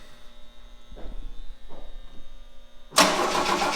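A fire-burnt 1965 Rambler 770 convertible that has sat for a long time gives a couple of short cranking bursts, then roars to life loudly and keeps running; there is no talking.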